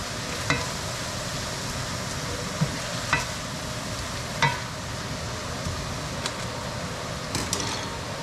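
Mushroom gnocchi cooking in a pan, giving off a steady, soft sizzle throughout, with a few faint clicks and taps from utensils against the pan. No one speaks.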